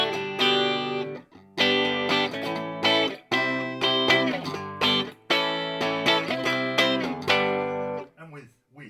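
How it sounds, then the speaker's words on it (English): A 2001 PRS SE Santana electric guitar plays clean with a touch of reverb, strumming chords and picking single notes in loud, ringing phrases that are cut off by brief pauses. "this is the guitar normal with no boost on it, just clean, tiny bit of reverb"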